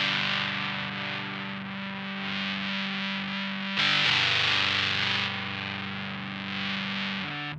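Electric guitar played through a Ronsound Hairpie fuzz pedal in triangle mode at minimum gain: sustained fuzzy chords, a sharp chord change midway, thick and saturated with no talking.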